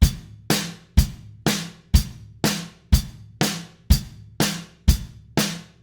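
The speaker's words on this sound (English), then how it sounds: "what we have in the chorus is what we might call a 4-beat rock pattern or a quarter note rock pattern" A drum kit plays a steady quarter-note rock beat for a chorus, hi-hat struck on every beat with kick and snare alternating underneath, a dozen even, crisp hits ringing close and clear with no talking.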